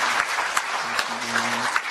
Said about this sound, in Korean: 큰 박수 한번 해주시면 좋겠습니다